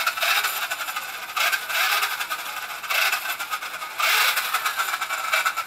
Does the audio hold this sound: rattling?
yes